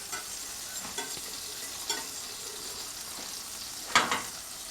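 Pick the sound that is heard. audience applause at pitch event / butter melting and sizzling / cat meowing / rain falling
butter melting and sizzling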